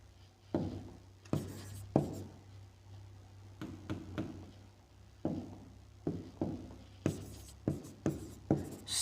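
Pen or chalk writing out a trigonometry proof for a Class 10 maths lesson, a close series of scratchy strokes in uneven bursts, growing quicker and more regular toward the end, with no talking.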